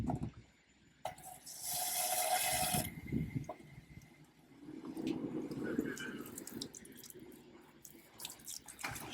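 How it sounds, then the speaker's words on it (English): Water pours and sloshes out of a Nomado Cruiser during rinsing, a steady rush followed by gurgling and splashing that fades and swells again, close by. "Do it several times, about 3 times, until the water that comes out comes clear."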